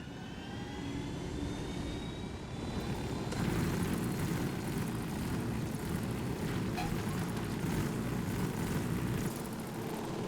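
A steady helicopter engine drone in Ghost Recon Wildlands hums throughout, growing louder and rougher partway through, with a high whine fading out; no one speaks.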